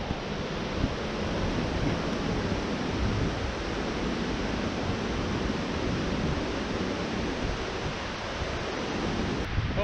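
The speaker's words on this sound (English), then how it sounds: "I can feel the mist from the waterfall" Waterfall at Rock Island State Park, a dense, continuous roar of falling water heard up close, loud and steady throughout with no talking.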